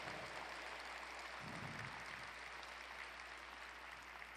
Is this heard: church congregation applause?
yes